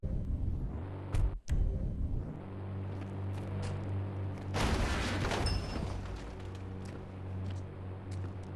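Explosions and gunfire from an open-world car-theft video game: a few sharp blasts early, then a longer rumbling burst midway, over a continuous low engine drone.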